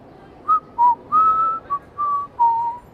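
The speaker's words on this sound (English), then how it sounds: "a phantom wearing a wide brim hat and a cape, whistling about" A man whistling a slow tune late at night in New York City, six clear sustained notes in a short uneven phrase, each rising and falling cleanly against near silence.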